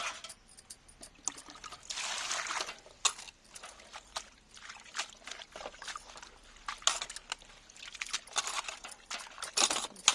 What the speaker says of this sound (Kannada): ನೀರಲ್ಲಿ ತೊಳಿಬೇಕಿದೆ